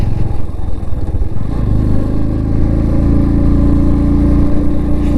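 A bobber motorcycle engine runs loud and steady up close on a high mountain pass ride in Ladakh, with a rough knocking beat under a continuous mid-low drone and no pauses.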